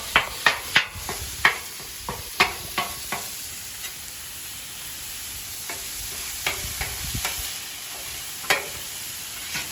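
Ground meat for Philly cheesesteaks sizzles in a pan while a utensil scrapes and breaks it apart, sharp stirring clicks and scrapes repeating irregularly over a steady frying hiss, close up with no talking.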